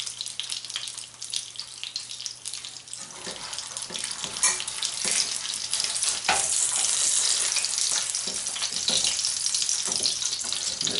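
Battered food frying in a pan during home cooking with beer, starting as a quiet background and swelling after a few seconds into a loud, steady, crackling sizzle with sharp pops.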